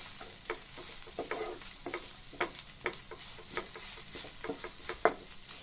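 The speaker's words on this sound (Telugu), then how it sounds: "ఈ వెల్లుల్లి పేస్ట్ పచ్చి వాసన పోయేదాకా దోరగా వేయించుకోవాలి." Ginger garlic paste fried in a pan for chapati veg rolls, giving a soft continuous sizzle with irregular light stirring clicks, faint and close, with no talk.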